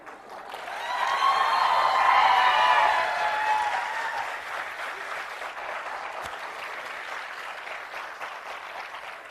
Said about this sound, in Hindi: जो 10-20 कुर्सियां खाली हैं उनकी ताली भी आप ही बजा दो।